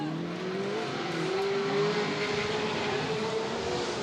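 Pro 4 and Pro 2 off-road race trucks at a CORR short-course race, engines revving and droning in a continuous mid-distance roar with pitch sweeping as they accelerate, no voices heard.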